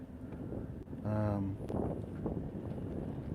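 Gusty wind buffets the microphone outdoors with steady low rumble, while a brief tonal hum rises and fades partway through.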